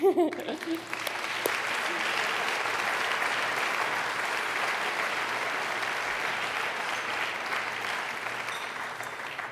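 A gala audience for a student sports awards ceremony applauds in a dense, steady burst that lasts the whole stretch. A voice is briefly heard at the very start.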